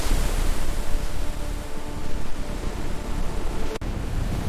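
Storm waves roar at sea as a boat is tossed, a dense continuous wash of crashing surf and wind that stays loud throughout.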